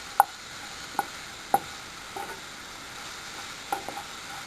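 Onions stirred and sautéed in a pan for an omelette, a faint sizzle running under several sharp clinks of a spoon against the pan, spaced irregularly, with no one talking.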